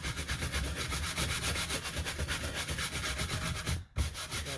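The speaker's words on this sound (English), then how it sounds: "Now, you take the brush and you vigorously brush it in all directions, and that helps get any of those little loose shavings out of there." Stiff brush scrubbed vigorously in all directions over a carved wood surface, clearing loose shavings; a steady, close, continuous rubbing scrape with a brief pause near the end.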